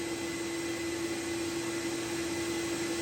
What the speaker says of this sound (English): So I have vac motor number 1 running